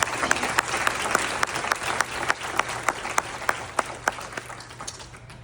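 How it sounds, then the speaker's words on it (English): An audience at the Toronto Mayor's Community Safety Awards ceremony breaks into sustained applause, a dense wash of clapping punctuated by sharp individual claps, gradually tapering off at the end. "let's give them a round of applause"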